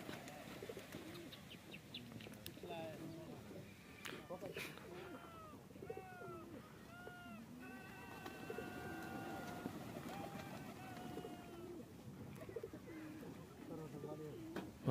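Pigeons coo repeatedly in soft, rolling calls amid chirping birds at a high-flying pigeon tournament, with people talking in the background throughout.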